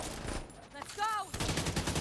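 Automatic gunfire bursts in a first-person shooter video game, dense rapid shots at close range mixed with a brief electronic alert tone, loud and continuous across the short span.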